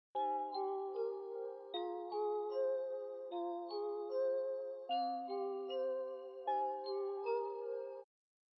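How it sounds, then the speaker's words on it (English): A bell-like synthesizer in a track plays a steady chiming melodic pattern of layered tones, bright and clean, repeating in even phrases for about eight seconds with no voices. "It's like a bell sound"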